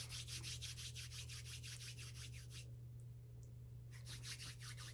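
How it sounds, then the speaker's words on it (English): Fingernails rhythmically scratch textured glass in a close binaural recording, a steady run of quick rasping strokes that pauses briefly, then resumes, quiet and intimate with no voice. "Binaural ASMR Scratching Textured Glass"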